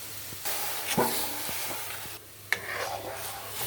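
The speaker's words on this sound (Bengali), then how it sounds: "ভালো করে ভেজে নিচ্ছি পেঁয়াজগুলি, বাদামি কালার করে নিচ্ছি" Chopped onions fry with cumin seeds in a pan as they brown for dal, a soft continuous sizzle broken by a few sharp clinks and scrapes of stirring, close and fairly quiet.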